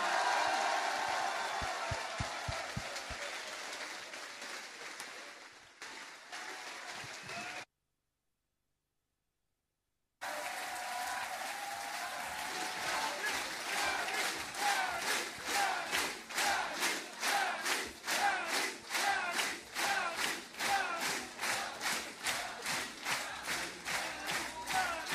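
A large festival crowd at the Fête de l'Huma roars and cheers for Yanis Varoufakis, loud and sustained, breaking briefly into silence before swelling again into rhythmic, chanting applause with regular clapping beats.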